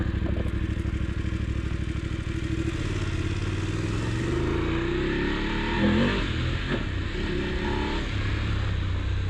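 Voge 900 DSX motorcycle engine revving hard and roaring, a loud, close, continuous growl that rises and falls through repeated throttle blips, with no talk over it.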